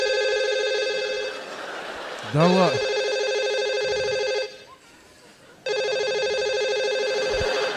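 Mobile phone ringtone on a comedy stage, loud repeating melodic tones that dip briefly as a voice cuts in, pause for about a second, then resume at full volume.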